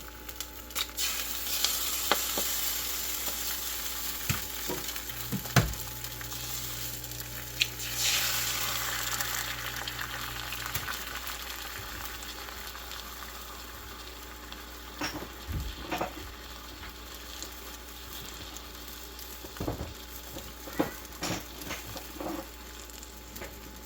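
Eggs frying over jalapenos in a cast iron pan, a soft, continuous sizzle with occasional clicks and scrapes from a utensil, heard close with no talking.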